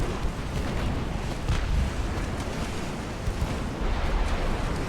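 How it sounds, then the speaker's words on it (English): Torpedo impacts and explosions on a burning light cruiser in the naval game Ultimate Admiral Dreadnoughts: a dense, continuous rumble of blasts with deep booming surges, loud and unbroken, no talking. "And there are the torpedo impacts, and that should be the end of her"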